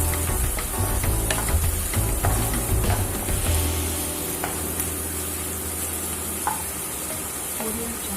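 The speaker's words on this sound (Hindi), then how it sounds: "प्याज को हमने थोड़ा भून लिया है।" Onions frying in a pan while being browned for a mustard fish curry, a steady loud sizzle with occasional stirring scrapes throughout.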